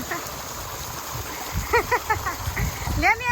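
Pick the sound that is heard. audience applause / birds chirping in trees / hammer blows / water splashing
water splashing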